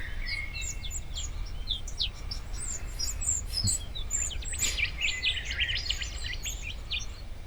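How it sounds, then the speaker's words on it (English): Several small birds singing and chirping close by outdoors, bright repeated calls scattered throughout over a steady low background hum; no talking. "Those birds could not have been any closer."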